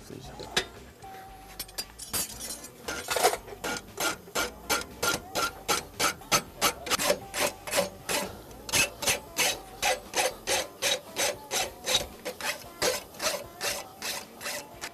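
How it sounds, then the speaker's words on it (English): A rasp files a horseshoe in a farrier's setting, a steady run of about two dozen loud, evenly spaced rasping strokes that grow more regular as it goes, with faint talk near the start. "you can rasp it back to where it needs to be"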